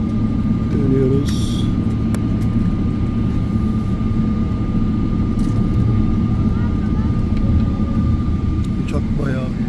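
A landed airliner taxis with a steady, loud engine roar and broad rumble filling the cabin, a constant drone throughout with faint voices beneath.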